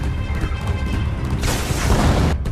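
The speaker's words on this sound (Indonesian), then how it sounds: "Mereka lalu menghancurkan pintu dengan menggunakan peledak." A film scene where an explosive charge blasts open a door, a deep rumbling boom with crashing debris that swells into a broad, loud burst over the final second.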